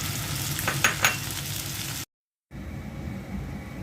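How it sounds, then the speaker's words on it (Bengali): Tomatoes added to onions in hot oil sizzle loudly, with a couple of sharp stirring scrapes near the start, then a short cut to a quieter, softer frying hiss. "পেঁয়াজের সাথে টমেটো দিয়ে দিচ্ছি।"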